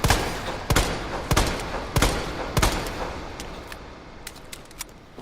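Leon's handgun in Resident Evil 2 fires four loud, evenly spaced shots with short echoing tails, followed by fainter clicks and small impacts as the firing stops.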